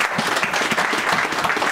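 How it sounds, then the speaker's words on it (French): A church congregation claps together in steady, dense applause lasting throughout, loud and close, with no voices rising above it. "Est-ce qu'on peut acclamer cette fois?"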